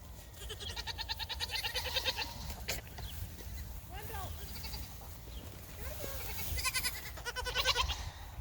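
Toggenburg goats bleat repeatedly in wavering, quavering calls, some close and loud, amid rustling and background bird chirps.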